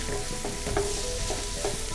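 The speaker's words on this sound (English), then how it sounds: "Gonna mix that around. You want to cook them till they're a nice, pretty pink color." Pre-cooked salad shrimp sizzling in a pan as they are stirred around, a continuous close frying hiss with soft scraping strokes.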